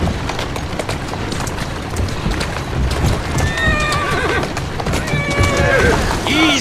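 A horse in the video game Assassin's Creed Syndicate whinnies loudly several times over a rhythmic clip-clop of hooves, with a voice speaking over it.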